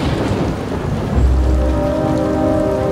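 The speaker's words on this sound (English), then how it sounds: "Man, the storm is bad." Heavy rain pours steadily while low thunder rumbles in, a dense storm soundscape from the Nancy Drew: Midnight in Salem video game, loud and continuous without speech.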